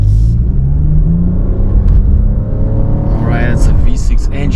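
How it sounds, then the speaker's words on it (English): A Lexus RX 450h V6 is floored in Sport S Plus mode, its engine growl building loud and steady from inside the cabin while a person talks over it. "I can hear that it has a bit more mature growl, this V6"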